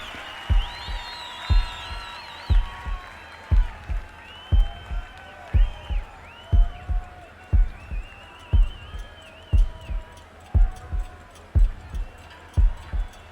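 The opening heartbeat of Pink Floyd's "Speak to Me" played live at Live 8: a deep, regular double-thump pulse repeating about once a second, with faint swirling tones and crowd noise underneath.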